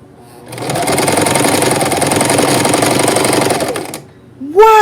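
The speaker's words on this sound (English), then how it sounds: "The sewing machine goes much faster than sewing by hand." A sewing machine stitches fabric in one steady, loud, fast mechanical run of about three seconds, starting and stopping cleanly, with no one talking over it.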